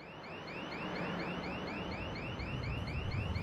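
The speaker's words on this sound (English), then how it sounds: "How can you hear anything over that alarm?" A car alarm blares steadily with rapid repeating warbling chirps, loud and continuous over a dense noisy background, with no talking.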